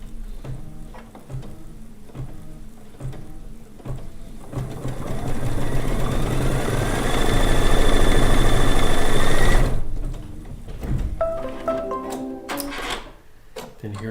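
A sewing machine runs a placement stitch for a small center circle on a quilt block, a steady mechanical whir building and holding for several seconds before stopping, with ticking handling noises afterward.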